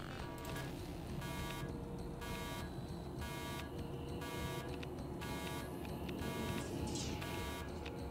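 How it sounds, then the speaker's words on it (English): In the game Observation, an alarm buzzes steadily as a continuous electronic tone with pulsing, repeating beeps, alone and unbroken throughout. "I would assume that's the alarm there."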